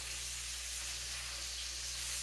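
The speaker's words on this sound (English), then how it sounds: "right now what I'm doing is I'm just frying up a little bacon" Bacon frying in a pan for a homemade broccoli cheese soup, giving a steady, close hiss and sizzle that runs unbroken for the whole moment over a low background hum.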